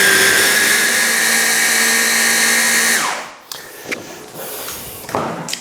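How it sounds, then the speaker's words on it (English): A blender whirs loudly and steadily for about three seconds while blending a fish cake mixture with Thai curry paste, then winds down, followed by a few light clunks and knocks close by. "Let's give that a blend."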